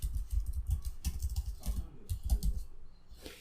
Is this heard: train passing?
no